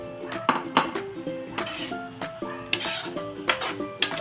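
Utensils clatter and scrape against a pan as noodles for homemade Pinoy-style spaghetti are added and stirred, giving repeated sharp metallic knocks and rubbing over a quiet kitchen background.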